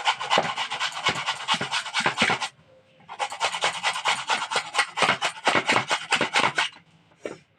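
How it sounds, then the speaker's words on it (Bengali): Raw beetroot rubbed on a hand grater, rapid rhythmic rasping strokes up close, broken by a short pause and ending with a final stroke. "এই বিটটা আমার ঘষণের সাহায্যে আমি ঘষে নেবো"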